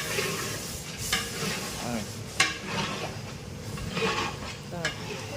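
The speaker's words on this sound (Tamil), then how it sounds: "இதை நல்லா நம்ம அந்த பச்சை வாசனை போகிற அளவுக்கு நம்ம வதக்கணும்." A ground masala paste for vegetable biryani fries in a pan, with a continuous close sizzle broken by spoon scraping and stirring clinks at a steady, unhurried rhythm.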